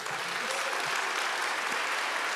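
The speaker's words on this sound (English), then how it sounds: "Can we have a huge round of applause for her?" A conference audience at a lightning-talk session applauds a speaker with dense, steady clapping that fills the room evenly from start to finish, loud and unbroken.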